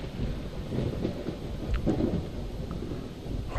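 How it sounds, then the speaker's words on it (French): Thunderstorm in the zombie survival game Project Zomboid: a steady wash of rain with low rumbling thunder swelling and fading throughout, moderately loud with no talking. "Oh, puis là, il y a l'orage."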